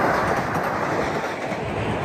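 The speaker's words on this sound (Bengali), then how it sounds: "আমার ট্রেন যেতেছে" A train running alongside the Arakawa river in Japan, a steady, loud rumble of rolling wheels and carriage noise that holds evenly across the whole span, with no one talking over it.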